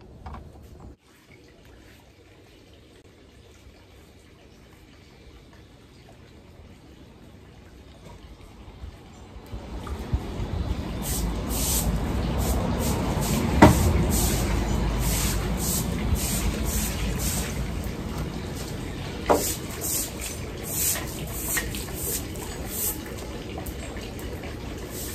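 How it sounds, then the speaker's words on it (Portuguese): Water thrown across a veranda floor while washing it: after a quiet start, a broad steady splashing rush builds and continues, with occasional sharper splats and spatters on top. "Lavei a varanda, joguei água"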